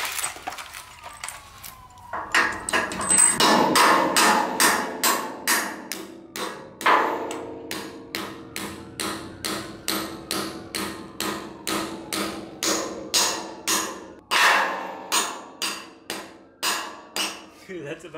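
A hammer strikes a drop-in anchor driven up into a concrete ceiling in a shop: a long run of steady, ringing metallic blows, close and fairly loud, evenly spaced with brief pauses.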